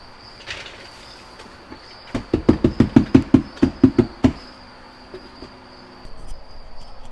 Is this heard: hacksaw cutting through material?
no